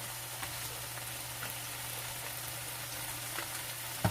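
Mushroom vegetable pilau stirred in a pot, a steady soft simmering sizzle with faint scraping strokes throughout, close but low, with a constant hum in the background and no talk.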